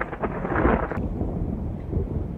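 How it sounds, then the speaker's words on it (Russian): Thunder rumbling during a summer thunderstorm at a dacha by Lake Peipus in Estonia, a short low roll heard from outdoors, moderately loud with wind noise on the microphone. "Гроза, гром."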